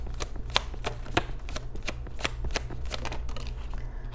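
Tarot cards are shuffled close by, giving a series of crisp riffling slaps and soft papery flutters in an uneven rhythm, about a dozen quick strokes over four seconds with no talking.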